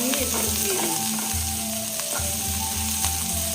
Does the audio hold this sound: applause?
no